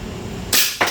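A Glock 18 replica gun fires on full auto, giving two sharp, loud, close bursts about a quarter second apart over a quiet background.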